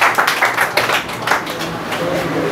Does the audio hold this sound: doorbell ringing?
no